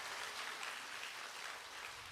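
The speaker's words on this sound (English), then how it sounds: "please give a round of applause" A church audience at a Sunday worship service claps in a soft, even round of applause, faint and distant throughout.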